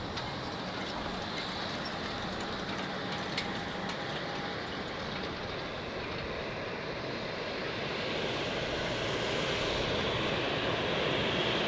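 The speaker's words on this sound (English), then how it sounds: "And here we have an A321 of Iberia getting pushed back from the gate and prepares for departure to Madrid." An Iberia Airbus A321 being pushed back from the gate at Zurich airport, for departure to Madrid: a steady, broad whine and roar of engines and ground equipment, constant and moderately distant, swelling slightly toward the end.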